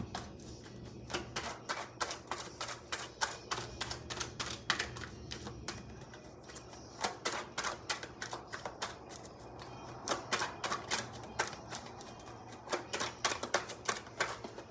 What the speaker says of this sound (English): I am going to shuffle the tarot deck